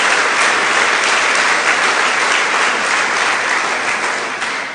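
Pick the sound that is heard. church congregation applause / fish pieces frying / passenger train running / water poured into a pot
church congregation applause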